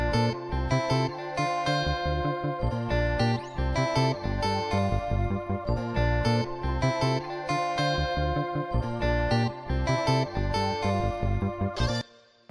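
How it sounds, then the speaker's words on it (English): The chorus of a soca beat plays with a varied bassline, deep syncopated bass notes and busy percussion driving a dense, loud groove over synth layers, ending with a short break. "And then in the chorus, you have the different variation of the bass,"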